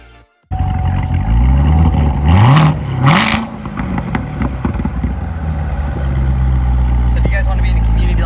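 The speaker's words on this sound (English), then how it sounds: "I'm actually going to start the car, show you guys what BDB Live is going to be like and what it sounds like" A powerful 650-horsepower car engine cranks and fires up close, revving hard a couple of times before settling into a deep, rumbling idle.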